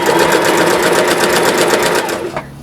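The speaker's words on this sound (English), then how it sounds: "Take your hand off your back stitch lever and carry on sewing." A sewing machine runs in one steady, fast, loud stretch of rhythmic needle stitching after the back stitch lever is released, then slows and stops near the end.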